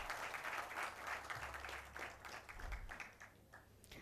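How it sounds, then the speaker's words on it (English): An audience at the MIG Catalyst 2025-26 event applauds a speaker: a sustained wash of clapping from a crowd, moderately distant and fairly even throughout, with no talking over it. "Let's have a huge round of applause for Mr. Raman Nanda."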